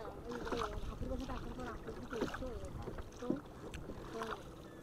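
A sampan rowboat glides on Kaptai Lake, with soft water and paddle sounds under light wind, while voices talk nearby throughout.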